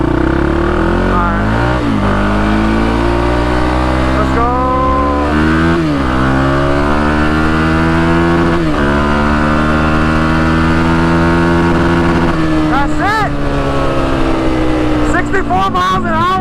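A Can-Am quad ATV engine revs hard at high speed, a loud sustained roar with rising and falling pitch as it pulls through gears, plus occasional sharp crackling backfires near the end.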